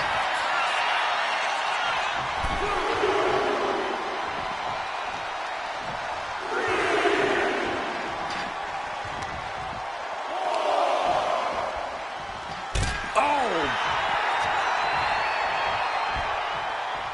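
Arena crowd in the WWE 2K25 wrestling game swells in waves of cheering behind steady play-by-play commentary, with a sharp slam-like impact near the end.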